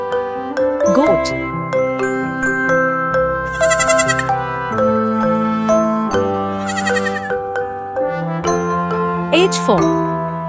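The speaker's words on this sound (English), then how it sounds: "G for goat." Cartoon goat bleating in short wavering bursts over a constant children's song with a steady melody and bell-like chimes.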